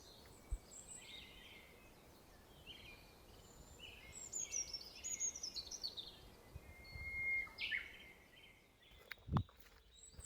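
Faint birdsong by a river, a few thin chirps and trills rising over a steady low wash of flowing water, distant and quiet with a soft thump near the end.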